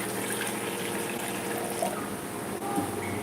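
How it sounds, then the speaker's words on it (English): A cup of water is poured into a utensil on the stove while lemon rasam is made in a home kitchen. The pour gives a steady, soft splashing trickle that lasts about three seconds. "I'm going to take a cup of water."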